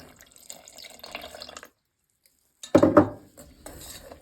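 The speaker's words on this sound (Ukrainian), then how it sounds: "Додаємо сюди 250 мл молочка." Milk, 250 ml, is poured into a beaten egg mixture for a bird's milk cake custard: faint kitchen clinks, a silent gap, then a short, loud gush and splash up close.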